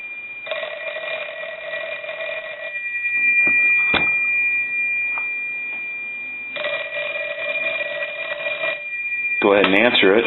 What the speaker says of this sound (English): we're going to go ahead and ring the telephone